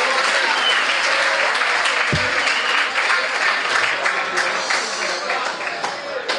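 Sustained applause from a school audience at an Erasmus Days event, dense and steady throughout with no pauses, filling the whole stretch.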